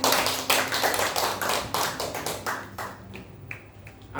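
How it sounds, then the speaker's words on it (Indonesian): A congregation claps along at a church worship and prayer night, with quick, sharp, steady handclaps repeating in an even rhythm throughout. "Tepuk tangan saudara."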